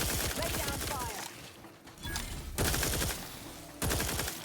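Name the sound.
gunfire in video game The Outer Worlds 2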